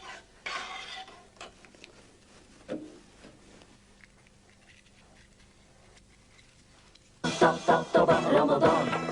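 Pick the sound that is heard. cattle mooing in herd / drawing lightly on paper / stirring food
stirring food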